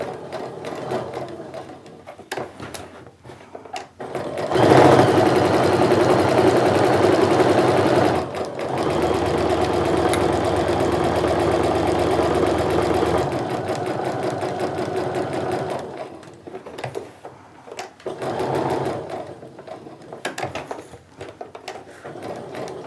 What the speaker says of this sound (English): I'm going to sew a little bit further than where I started